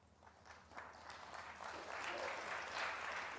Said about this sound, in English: There's a little smattering of applause for frame ball.